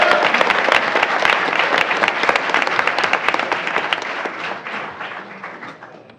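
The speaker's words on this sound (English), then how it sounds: "A round of applause for them as well." Applause from a school board meeting audience honoring a student and his family, a dense burst of clapping that starts loud and slowly tapers off over several seconds.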